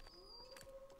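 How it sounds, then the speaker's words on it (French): Wolves howl in The Long Dark, a survival video game, a faint, thin sustained wail drifting from far off over quiet ambience, ending on a brief sharp click. "Oh, j'entends les loups qui hurlent"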